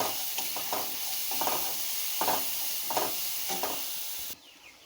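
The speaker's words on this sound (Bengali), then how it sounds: "আদা রসুন যেটা একসঙ্গে মিহি করে বেটে রেখেছিলাম ওটা দিয়ে দেব, দিয়ে এটাও ভালো করে ভেজে নেব।" Ginger-garlic paste fries with onions in hot oil for a prawn malaikari, a close sizzle broken by rhythmic scraping strokes of a spatula stirring the pan, ending abruptly.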